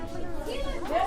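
Babble of a large crowd of students all around, many voices overlapping at close range into a busy murmur.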